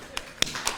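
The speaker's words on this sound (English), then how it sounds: "I think that's worth a hand clap" A few scattered hand claps from a Rotary Club meeting audience, three sharp isolated slaps spread across under a second, faint and sparse rather than full applause.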